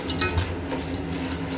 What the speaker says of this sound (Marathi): कढीपत्ता पण छान असा कडक तळून द्यायचा.